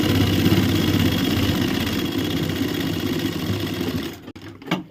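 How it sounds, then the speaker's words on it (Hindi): Sewing machine stitching pant fabric for ladies' trousers, a loud, steady whirring run that holds for several seconds, then stutters and stops near the end, with no talking. "और यहाँ पर सिलाई लगा देना है।"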